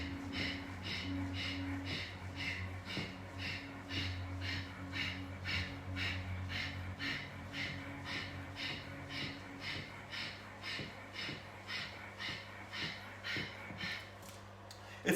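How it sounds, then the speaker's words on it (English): Rapid panting fire-breath exercise during a workout: quick, steady, rhythmic forceful exhales through the nose, close and continuous for the whole stretch with no talking. "It's a panting breath. It's a fire breath."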